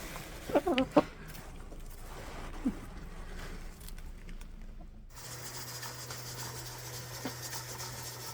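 Hens on a farm give a few brief clucks near the start, then a low steady hum and rustling fill the rest with no further clear calls.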